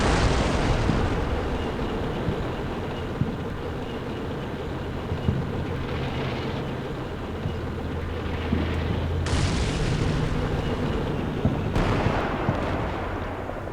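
Artillery barrage in Combat Mission Black Sea: heavy, rumbling explosions and booms rolling over a constant low battlefield roar, with distinct louder blasts near the start and again around the last few seconds.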